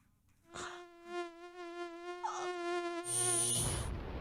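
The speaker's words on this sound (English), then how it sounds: "When mosquitoes invade, use Raid." Mosquito buzz from a Raid insecticide advert: a thin, whining drone that holds steady and wavers slightly in pitch, loud and close, with no talking.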